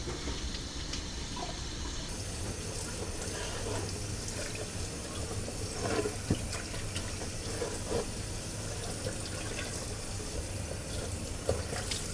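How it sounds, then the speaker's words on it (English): Water runs steadily from a sink tap while a wooden cutting board from an O'Day 28 sailboat is rinsed under it, making a soft, continuous splashing hiss with faint taps and knocks and no talking. "we just want to wash off the cutting board, just regular water"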